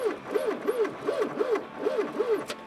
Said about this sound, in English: I can hear the pump.